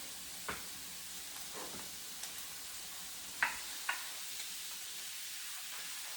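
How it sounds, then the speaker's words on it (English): Egg frying in a pan with green cabbage gives a faint, steady sizzle with a few soft clicks and taps from a utensil, fairly quiet and with no voices. "So now I'm going to add in like the egg."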